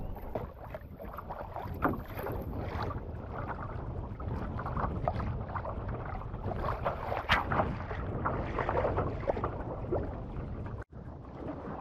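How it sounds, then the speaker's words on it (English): Steady wind buffets the microphone over a constant wash of rain on a lake in Algonquin, loud and continuous throughout, with a brief dropout near the end. "it starts raining. And it's getting windy."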